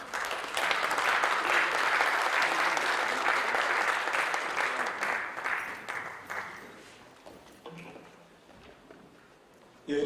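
An audience at a church seminar applauds to welcome a theology professor to the lecture, loud sustained clapping for about seven seconds that thins and fades out, followed by quieter room sounds.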